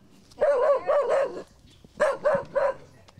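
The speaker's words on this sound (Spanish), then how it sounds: "Su inseparable perro, al que llama tirabuzón, es lo único que evita que esta anciana pase sus días en soledad." A pet dog, kept by an elderly woman, gives two quick sets of three sharp, close barks separated by a short pause, loud against a quiet background with no talk.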